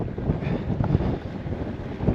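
Steady wind buffeting the microphone on a hot, dry day, a low rumbling roar with gusty swells throughout and no voices.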